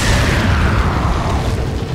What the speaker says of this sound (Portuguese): granada utilizada com sucesso